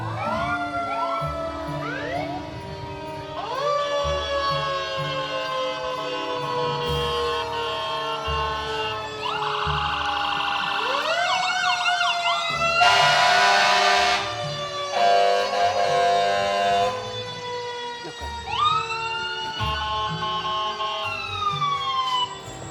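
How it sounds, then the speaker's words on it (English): Several sirens at the Gatlinburg Fantasy of Lights parade wail and whoop continuously, rising and falling over a steady engine rumble, with a burst of loud noise partway through. "But I'm starting to hear the sirens."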